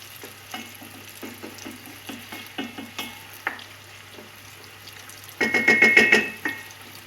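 Drained rice being stirred and sautéed with onions in a pan for Uzbek pilaf: soft, spaced scraping strokes over a quiet sizzle, then a louder burst of frying and stirring near the end, close by and without speech.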